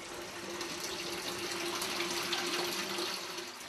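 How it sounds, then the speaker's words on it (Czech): Water at the spring of the Morava river flows in a continuous, gentle rushing trickle, steady and moderately quiet, with no speech over it. "Tohle je pramen řeky Moravy."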